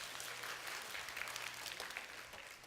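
An audience at a church youth service in Gunsan gives a short burst of steady, dense clapping that stays even throughout, with no voices over it.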